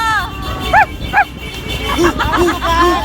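A costumed person at a cosplay competition imitates a barking dog with a few short yelping barks amid crowd chatter and people talking.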